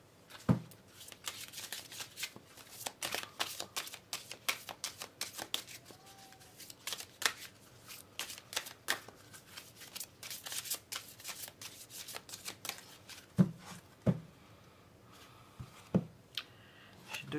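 Oracle cards are shuffled by hand close to the microphone in a quiet room. Soft riffling and sliding sounds repeat continuously, with a few sharper taps, and no one speaks.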